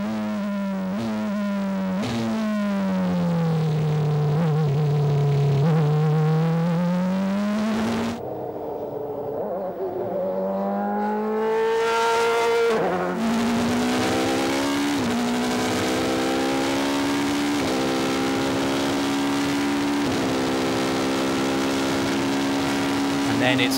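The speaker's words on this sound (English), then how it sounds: "Accelerate, try to go flat out, climb through the gears, and then enjoy coming back down through them again." A Renault two-seater Formula One car screams as it accelerates hard, its engine pitch climbing through each gear and dropping sharply at every upshift, then falling away briefly before building again, loud and close throughout.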